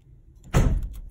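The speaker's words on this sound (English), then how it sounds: "Oh, he shut the door." A door being shut indoors makes a single soft thud with a brief rush of air, fairly close, after a quiet moment, with no voices.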